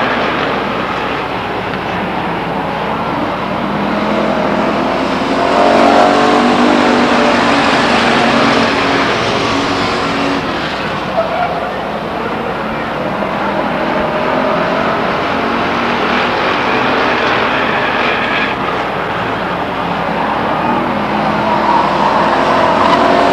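Pure stock race cars circle Stockton 99 Speedway, a steady loud roar of several engines rising and falling as the pack passes, with a continuous broad rumble throughout.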